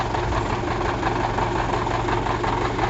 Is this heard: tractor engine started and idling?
yes